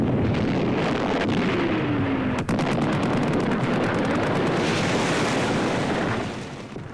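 Gunfire at a hunting shoot with beaters, a loud continuous outdoor rumble with a sharp crack near the middle and a brief rattle of repeated reports, fading toward the end.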